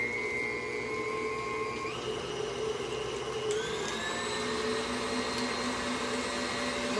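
An electric mixer whirs steadily while beating bananas for banana nut bread, a continuous close motor drone with shifting pitch as the blades work through the fruit, no voices present.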